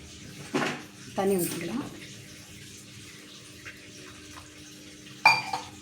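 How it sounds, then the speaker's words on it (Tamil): Water splashes briefly into a pan of Bombay chutney a few times, with short pours separated by quiet stretches and light clinks of cookware. "இப்போ தண்ணி ஊற்றிக்கலாம்."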